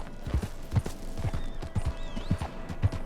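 Horse hooves clip-clop in Red Dead Redemption 2, a close, even rhythm of sharp hoofbeats roughly twice a second as the animal walks along, with no talk over it.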